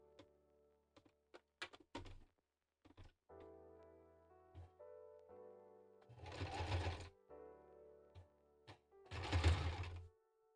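A sewing machine stitches thread for a Nyx cosplay from Hades, running in two short buzzing bursts between quiet clicks and handling noises, close by.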